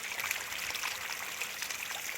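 Water running steadily from a small needle borehole pump on a garden plot, a continuous close trickling stream with no pauses and no voices.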